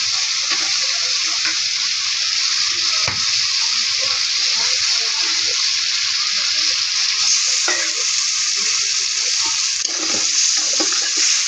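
Washed meat hits a hot pan and fries with a steady loud sizzle, with occasional stirring scrapes and clinks running throughout.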